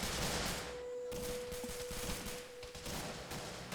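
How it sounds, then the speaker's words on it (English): Distant gunfire keeps rattling through a combat video game, with dense bursts and volleys of shots blending into a steady, far-off crackle and no speech over it. "You still hear all this gunfire."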